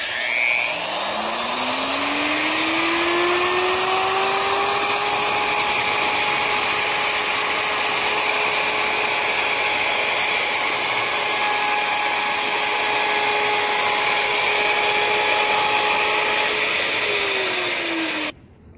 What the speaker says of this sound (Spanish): lo vamos a pasar nuestro router, nuestra fresadora, por este lado de acá